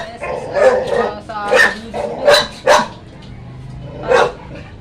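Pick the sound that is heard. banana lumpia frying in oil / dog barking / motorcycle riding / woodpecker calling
dog barking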